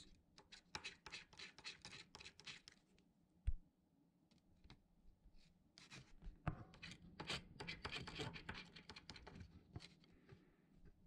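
A coin or fingernail scratching the bonus area of a one-dollar US lottery scratch-off ticket, quick faint rasping bursts close by, pausing briefly, then a denser stretch of scraping.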